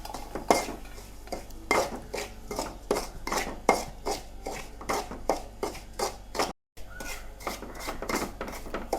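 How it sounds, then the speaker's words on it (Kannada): A spatula scrapes chiroti rava, a fine semolina, as it roasts in ghee in a metal pan for rava laddu. Quick, regular clanking strokes repeat more than a dozen times, with one brief pause. "ಎಲ್ಲ ಚಿರುಟಿ ರವೆಯನ್ನು ಇದರಲ್ಲಿ ಹಾಕಿ ಆದಷ್ಟು ಒಳ್ಳೆ ನೈಸಾಗಿ ಹುರಿಬೇಕು"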